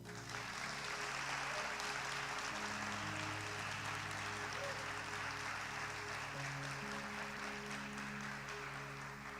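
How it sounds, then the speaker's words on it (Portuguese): A church congregation applauds together during a worship service, a steady, dense wash of clapping that continues throughout with an even sustained level. "Então aplauda ele."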